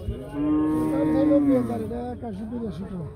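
A cow at the Adda cattle market in Barura, Cumilla, lets out one long, loud, close moo that wavers and falls at the end, with market voices faint behind it.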